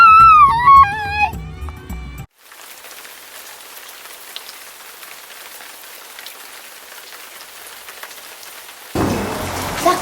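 Steady, heavy rain pours down after several days of nonstop rainfall, a dense hiss that continues alone for several seconds and swells louder toward the end.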